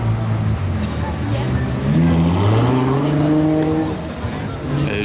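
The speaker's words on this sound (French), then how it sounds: "il y a une autre Ferrari V12 qui arrive" A Ferrari V12 sports car accelerates past on a Monaco street, its engine note climbing through rising revs then fading slightly, loud and close, with someone talking over it throughout.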